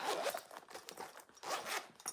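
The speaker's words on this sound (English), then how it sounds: "There's a little zipper pocket on the back. It opens up." A zipper on the small back pocket of a sewn waist bag is pulled open in several quick, close rasping strokes, heard alone.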